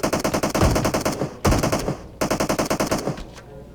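Rapid, rhythmic bursts of automatic gunfire in the PUBG Mobile video game, three sustained volleys of evenly spaced loud shots separated by brief pauses, close and dominant with no voices.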